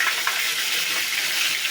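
Mustard seeds, cumin, tomatoes and curry leaves frying in hot oil for a ridge gourd and patra curry, a steady loud hiss and sizzle like running water, close and continuous with no voices.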